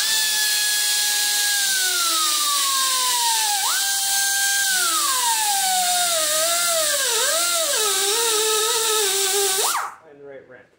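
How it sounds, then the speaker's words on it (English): A die grinder whines loudly and close while grinding down a weld on a Diamond mower king post. Its pitch dips and rises as the load changes, then it cuts off abruptly near the end. "this is where I want to come in here and die grind now down and meet the root of my weld"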